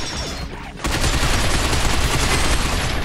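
Video game gunfire in Binary Domain breaks out after a brief quieter moment into dense, continuous automatic bursts that fill the space loudly and without pause.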